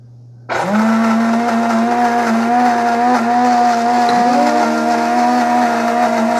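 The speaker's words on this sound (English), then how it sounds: "So I'm going to demonstrate which grinder is the loudest." Cuisinart coffee maker burr grinder, from the DGB-8000 or DGB-550 grind-and-brew line, starting abruptly after a low hum and whirring loudly and steadily with a high, even motor whine, close up and alone.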